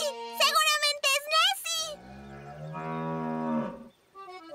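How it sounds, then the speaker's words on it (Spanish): A prize-winning highland cow in a Spanish-language cartoon gives a long, loud animated moo in the middle of the clip, after voices talk at the start, with a brief voice again at the end. "En su multipremiada vaca de las tierras altas."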